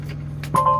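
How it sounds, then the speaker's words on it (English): Ignition key turned in a Peterbilt 567 truck cab: a brief click near the end, followed by a steady electronic chime tone over a low idling hum. "turn the key"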